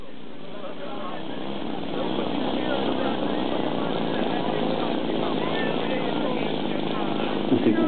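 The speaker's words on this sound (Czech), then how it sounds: "Musím uhnout, protože tady za mnou roluje akrobatický letoun Jak 55M." A Yak-55M aerobatic airplane taxiing: a propeller engine drone that swells after a couple of seconds and then holds steady and fairly close, with a voice talking over it.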